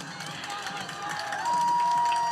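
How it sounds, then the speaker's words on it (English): Crowd noise at a high school football game, Hudson Raiders against Chippewa Falls, swelling steadily into louder cheering with a sustained whistle-like tone partway through, heard from a distance as a continuous broad roar. "Crowd getting into it right now."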